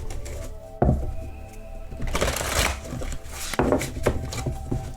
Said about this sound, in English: I like a good shuffle between readings